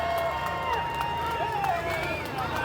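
A crowd cheering and shouting at a lumberjack pro day competition at Lake George, a continuous mass of voices with whistles and calls, fairly near.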